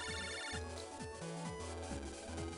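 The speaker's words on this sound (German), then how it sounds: "Lern, du hast einen Telefonanruf." A chiptune phone-call ringtone from Mega Man Battle Network 3 Blue plays as a repeating electronic melody over steady background game music, moderately loud with no voices.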